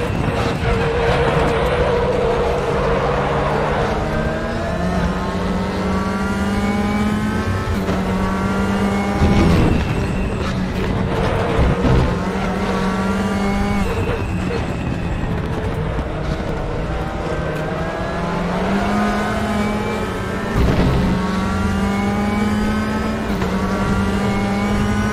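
WTCR touring car engine at Zandvoort in RaceRoom, heard onboard as a steady loud drone with rising and falling revs through repeated gear shifts, running continuously.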